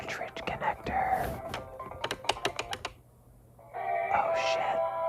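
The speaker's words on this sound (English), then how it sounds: "This is the sound of the cartridge connector." Close-up handling of a Sega Nomad handheld's cartridge connector, with crisp clicks and small plastic taps in quick bursts, heard intimately alongside soft whispering.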